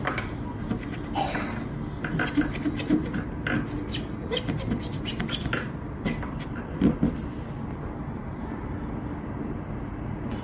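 A cotton pad rubs election ink from a finger with nail polish remover, giving a steady close scratchy friction with repeated short strokes, continuous over low background hum and without talk.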